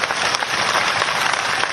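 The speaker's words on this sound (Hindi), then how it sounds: "मोदी जी के लिए एक बार जोरदार तालियां हो जाएं।" Loud, sustained applause from a large crowd at a BJP farmers' rally in Ujjain, dense continuous clapping filling the whole moment.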